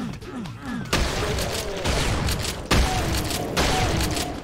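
Gunfire from the Doom mod Alien Vendetta on its Sunset map blasts demons in a run of heavy booming shots about a second apart, loud and close amid thick game noise.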